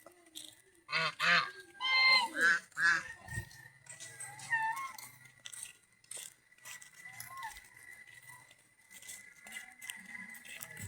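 Geese honk in a quick burst of loud, close calls early on, then give scattered softer honks, with faint voices in the background.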